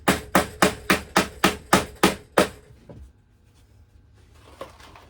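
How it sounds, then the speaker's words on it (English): Eight sharp, evenly spaced hammer blows drive a staple over electrical cable during a rough-in of outlets and switches, then the striking stops, leaving a quiet room with a faint knock. "I'm going to do a staple rather close to my hole without beating the shit out of it."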